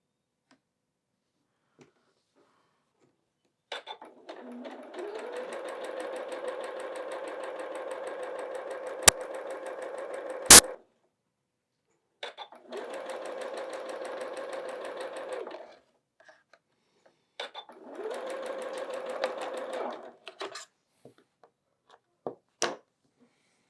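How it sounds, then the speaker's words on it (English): A sewing machine stitching quilt block units together runs in three bursts of steady, rapid mechanical whirring, each a few seconds long, with quiet pauses and small clicks between them. "We're going to sew it together just like that."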